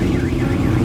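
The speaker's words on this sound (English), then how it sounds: "They set the SWAT car off." A SWAT vehicle's car alarm going off at a car show, a loud continuous warbling electronic siren tone heard close up over rumbling background noise.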